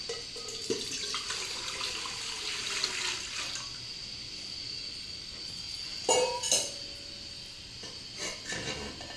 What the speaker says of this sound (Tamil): இப்போ இட்லி பாத்திரத்தில் தண்ணி ஊற்றுறேன்.